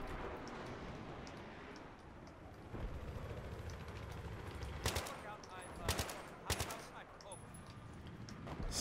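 Battlefield 3 gameplay on the Border Wars map: faint background ambience, then sharp bursts of gunfire from about five seconds, several loud cracks in quick clusters, with a voice speaking quietly beneath.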